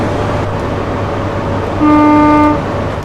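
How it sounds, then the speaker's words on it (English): A train horn sounds once, a steady low-pitched toot lasting under a second, over the constant rumble of an engine. "I think the horns are very, very, very low for this type of train."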